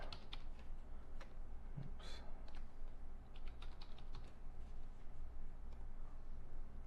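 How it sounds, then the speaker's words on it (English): A zip code being punched in on a computer keyboard: a quick run of light, irregular key clicks over a steady background hum, close and fairly quiet, with no talk. "you can punch in a zip code"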